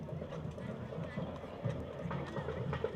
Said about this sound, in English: Beautiful horses, large.